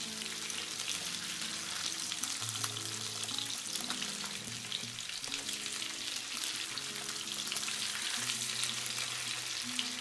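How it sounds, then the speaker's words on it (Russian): Steady crackling sizzle of homemade minced-meat cutlets frying in fat in a pan, continuous and close, with occasional soft pops and no voices. "жир, и на котором жарятся котлеты, и сами котлетки"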